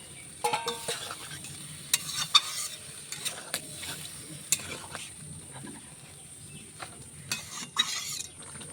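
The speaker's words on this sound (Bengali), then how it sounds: "দেখছেন কি সুন্দর ফুটছে, আর ঝোলটা একবারে গাঢ় হয়ে গেছে" A pan of fish roe curry bubbles and sizzles steadily, with occasional scraping and clinks of a utensil stirring close by.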